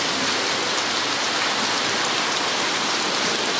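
Steady heavy rain falling in Islamabad, a dense unbroken hiss of drops on surfaces, loud and even throughout with no voices.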